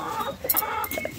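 Chickens clucking nearby in a short burst of several quick, uneven clucks with no talking.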